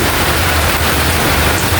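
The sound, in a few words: heavy rain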